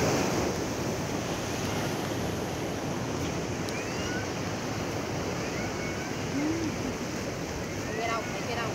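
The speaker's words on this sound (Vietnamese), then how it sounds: "Biển kéo dài tuốt qua kia." Sea waves break on Vinh Hai beach near Hue in a steady, broad wash of surf mixed with wind buffeting the microphone, continuous and fairly loud throughout.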